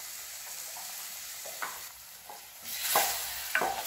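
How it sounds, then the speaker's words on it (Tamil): A spoon stirs a pot of village-style dry fish curry after tamarind is poured in, scraping and knocking against the pot over a low bubbling simmer, with the stirring louder toward the end. "அப்படியே கிளறி விட்ருவோம்"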